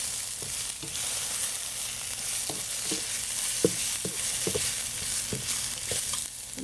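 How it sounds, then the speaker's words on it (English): Browned king oyster mushrooms with green onion frying in a pan, stirred in repeated scraping strokes over a continuous close sizzle, with no talking. "And stir it a little bit."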